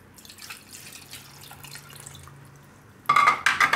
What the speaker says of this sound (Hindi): इसमें हम 1 कप पानी डालेंगे पहले।